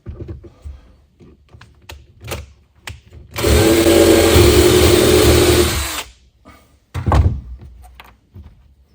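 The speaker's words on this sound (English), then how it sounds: "Just drill a hole in the firewall." A power drill whines loudly for about three seconds boring a 1/4-inch hole in a 1964 Ford Galaxie firewall, bracketed by scattered knocks and handling clunks.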